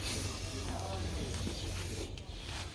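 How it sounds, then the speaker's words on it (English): Steady hiss of oil spray being applied to a motorcycle outdoors, a continuous close aerosol hiss running throughout with a low rumble underneath. "Oil spray, na?"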